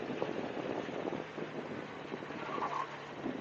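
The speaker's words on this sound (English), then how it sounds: "the engine does sound sweet on this bike, especially with that exhaust" A 125cc scooter engine fitted with an aftermarket exhaust idles steadily at close range, giving a continuous broadband rumble and hiss that is partly mixed with wind noise.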